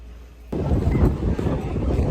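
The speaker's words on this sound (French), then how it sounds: "C'est quoi ce vent et ce froid?" Strong, cold wind buffets a microphone outdoors in San Francisco near Alcatraz, with a sudden onset of loud, rumbling gusts that continue steadily to the end.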